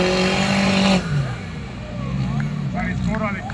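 A race car engine roars loudly and then drops off, followed by lower engine drone and tire noise while it maneuvers, with a commentator talking over it.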